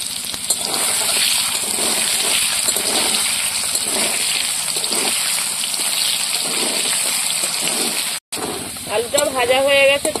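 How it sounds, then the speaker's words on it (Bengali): Potatoes frying with salt in hot oil in a village kitchen, a steady broad sizzle throughout with a brief cut near the end, followed by a voice at the close. "লবণ দিয়ে আলুটা ভেজে নেব"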